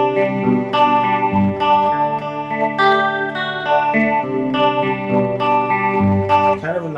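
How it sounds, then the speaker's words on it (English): Clean-channel electric guitar through a Yamaha THR5 desktop amp with chorus switched on, shimmering, slightly wavering chords and single notes ringing out close and steady for several seconds, no talking. "I'm going to turn on a little chorus."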